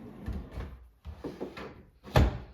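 A drawer on slides is pushed back into a farmhouse entryway unit, making several close sliding rumbles and soft knocks that end in a firmer thud.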